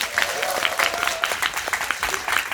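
A seminar audience claps loudly and steadily, a dense patter of individual hand claps close by, with faint talk mixed in.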